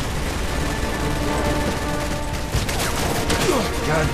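Rapid gunfire in the video game Resident Evil 6, a dense, continuous crackle of automatic shots that fills the whole stretch.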